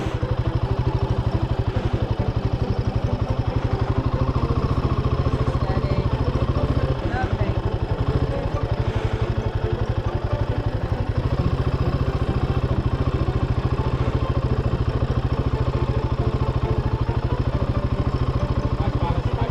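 A motorbike on a greenlane track idles and brakes down a hill, with a steady close engine chug and clattering throughout, and occasional talk over it.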